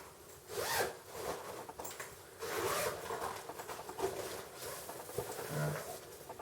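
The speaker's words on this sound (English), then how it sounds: "Pretty good zippers on it." A zipper on a ballistic nylon takedown bow case rasps open in several long, close pulls with short pauses between them, loud against a quiet background.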